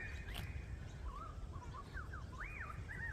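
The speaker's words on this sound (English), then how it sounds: "Can you hear the birds?" Birds sing outdoors in short, faint, rising and falling chirps and whistles, a few separate calls spread over a steady low background hum with no talking.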